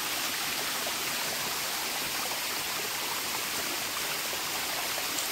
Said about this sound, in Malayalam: മലമുകളിൽ നിന്ന് വരുന്ന വെള്ളത്തിലാണ് വാഷ് ചെയ്യണത്